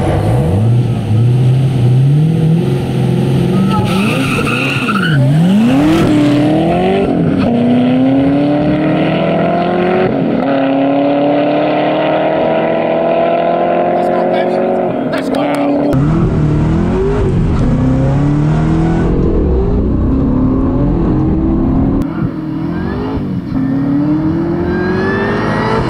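A supercharged Corvette Z06 and an Aston Martin Vantage drag race, with loud engines revving and accelerating in rising sweeps through the gears, a roaring pass up close, then more revving as the cars pull away.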